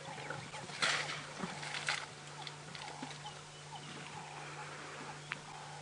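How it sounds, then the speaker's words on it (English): Elephants splash and slosh softly in water in an open outdoor setting during a sunset safari drive, with a low steady engine-like hum underneath and occasional faint bird calls. "You can hear the elephants splashing."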